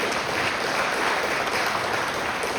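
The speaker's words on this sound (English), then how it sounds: "Please give him a round of" An audience at a U.S. Conference of Mayors gathering in Philadelphia applauds San Diego Mayor Todd Gloria, a steady, even roar of many hands clapping that holds at full strength throughout.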